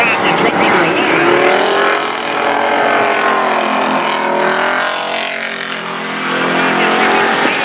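Race trucks roar around a track, their engines a loud, sustained multi-layered drone with pitch sweeping up and down as vehicles pass, and a commentator's voice running over the top throughout.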